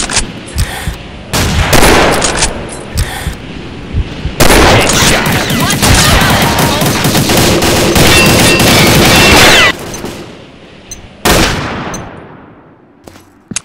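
Loud video game gunfire comes in rapid bursts, with sharp single shots between a long stretch of sustained automatic fire, then a few isolated cracks as it tails off.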